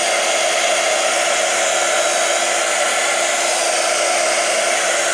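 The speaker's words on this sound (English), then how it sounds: "And then you'd heat it up with your heat gun." A heat gun blows steadily to dry Cosmic Shimmer pixie powders, producing a continuous close whooshing roar with no breaks and no talking.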